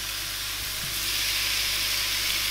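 Steak sizzling loudly in a hot pan, a steady dense hiss of frying meat that holds throughout with no pauses.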